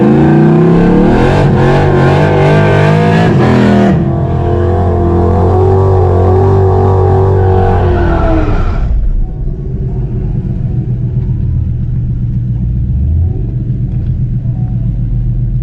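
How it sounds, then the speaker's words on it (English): A Coyote drag car and a twin-turbo Mustang GT500 race down a drag strip with a loud, close, roaring rumble for several seconds. The roar then drops to a lower, steady engine drone. "we're gonna run Corey one more time."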